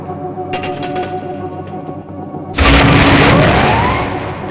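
A detonator core in Gunman Chronicles bursts at a hologram target with a sudden loud boom partway through, followed by a rumbling, crackling decay over the last couple of seconds after a quieter electronic hum.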